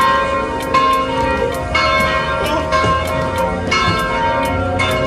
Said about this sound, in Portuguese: Olha lá, o sino da torre tá tocando.